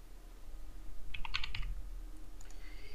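Fingers typing on a computer keyboard, entering text into a PDF form field: a short cluster of quick, light key clicks in the middle, close and fairly quiet over a low steady room hum.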